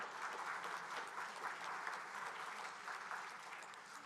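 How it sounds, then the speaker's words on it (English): An audience at an awards event breaks into sustained applause, a dense, even wash of many hands clapping at moderate volume throughout, with no speech over it. "That deserves a round of applause."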